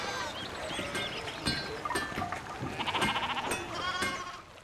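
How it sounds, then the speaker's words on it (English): Sheep bleating inside a smithy in the medieval video game Pentiment, wavering bleats over a busy ambient bed with clinks and clatter, moderately close. "He's got sheep in his smithy."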